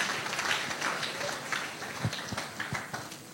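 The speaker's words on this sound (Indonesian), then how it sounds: "beri tepuk tangan yang meriah ya" Audience applause at an evening talk event, a soft, steady patter of clapping lasting a few seconds, moderately distant, with a faint murmur of voices underneath.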